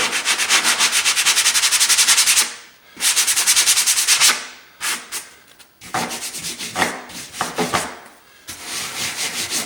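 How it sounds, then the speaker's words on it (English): Spackle on a drywall patch being sanded with a sanding sponge, a loud steady rasping rub in repeated strokes with brief pauses between passes, no talking. "you can lightly sand it"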